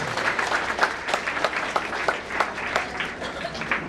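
Audience applause at a Hindi book launch event honouring chief guest MJ Azhar, a steady mass of clapping from a room of people with scattered louder claps throughout.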